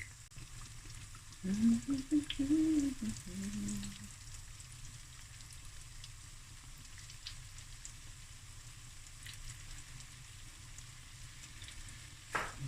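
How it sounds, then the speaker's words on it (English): Fresh cream doughnuts frying in hot oil, a steady soft sizzle and crackle like light rain that holds through the whole stretch, with a brief tonal squeal early on and no talk. "Okay, now I'm going to fry this off"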